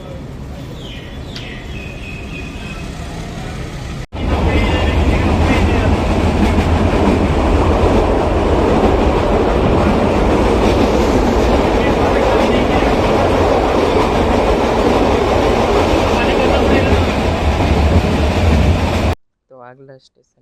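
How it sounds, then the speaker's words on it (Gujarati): A meter gauge train rumbles loudly and steadily as it pulls away from Bilkha station, Gujarat, with rolling rail noise throughout before cutting off abruptly near the end. "બિલખાથી નીકળતી આપણી ટ્રેન"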